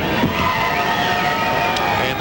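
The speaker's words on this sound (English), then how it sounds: "And the crowd is all over these two fighters at the moment" A boxing arena crowd roars and shouts continuously at two fighters midway through round four, a dense, loud wall of voices that never lets up.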